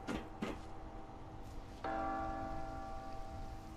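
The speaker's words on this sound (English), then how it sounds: "Church bells are ringing." Church bells in the video game Fallout 76 ring out, a couple of strikes followed by a louder, sustained chime that hangs and slowly decays; quiet surroundings, no talking.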